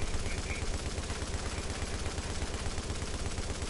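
Dense, continuous automatic gunfire from The Division video game, loud and unbroken with rapid rattling bursts filling the whole span.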